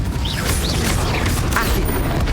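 Spells are cast one after another in Hogwarts Legacy, with loud magical whooshes and rising swoops over a dense, constant game soundscape.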